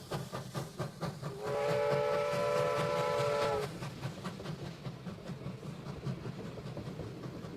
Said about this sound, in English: the train begins to leave the station and take them out of London